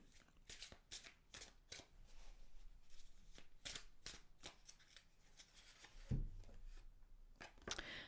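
A deck of Osho Zen tarot cards is shuffled by hand, with repeated riffling flutters and soft slaps in an irregular rhythm, close and alone, ending with a sharper thump near the end.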